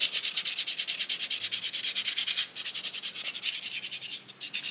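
Wet blue-back sandpaper rubs across a soapstone owl carving in quick, even back-and-forth strokes, a close, rhythmic scratchy rasp that repeats steadily without pause.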